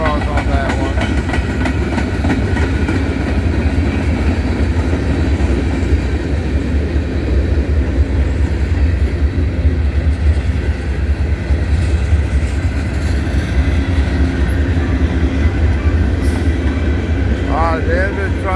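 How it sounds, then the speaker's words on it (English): A CP freight train of center beam cars, loaded and empty, with coil steel cars, rolls past at Abbeville. It makes a loud, continuous rumble and wheel clatter that never lets up. "the end of the train is coming up now"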